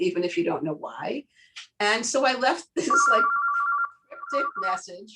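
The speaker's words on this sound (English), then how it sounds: "Sorry for the phone calls there." A phone rings during an interview, a steady electronic tone repeating twice under and between a person's ongoing speech.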